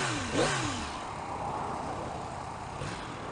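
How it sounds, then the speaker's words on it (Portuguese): A 2016 Yamaha R1 motorcycle runs with no exhaust fitted, giving a steady, fairly loud engine drone. A brief rev rises and falls near the start, and a second smaller swell comes near the end. "Tá calada, não botei o escapamento ainda."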